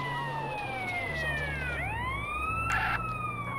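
Ambulance siren in the video game GTA San Andreas, a wailing tone sweeping up and down over a low engine rumble, fairly close and steady.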